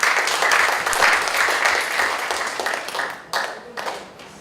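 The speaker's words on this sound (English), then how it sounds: "Please give applause." An audience at a guest lecture breaks into dense applause, loud at first and then thinning out toward the end.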